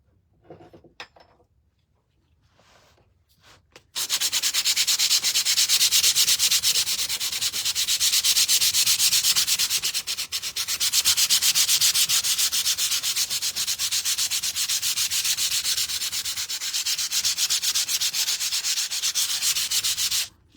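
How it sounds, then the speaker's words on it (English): A wooden door hanger being sanded by hand, with a steady, close, rough rubbing scrape that runs continuously after a few soft knocks at the start. "I'm just going to sand the whole thing."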